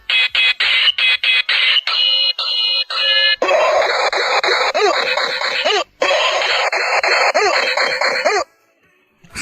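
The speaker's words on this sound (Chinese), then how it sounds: "让大家享受一下从第一时间听到这个盗版的音效" A cheap pirated Ultraman Trigger ring arm toy plays its electronic sound effects through a speaker. Loud, distorted bursts of synthetic tones and chopped voice samples start and stop abruptly, then fade to near silence at the end.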